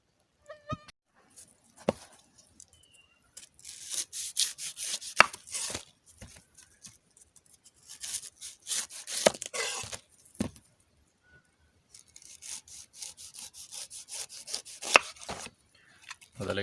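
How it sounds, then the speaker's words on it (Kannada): A knife cuts into a whole pineapple at home in repeated rough, crunching bursts of sawing strokes, separated by quiet pauses, close and moderately loud. "ಇವಾಗ ಮೊದಲಿಗೆ ಈ ಅನಾನಸನ್ನು ಕಟ್ ಮಾಡಿಕೊಳ್ಳುವ"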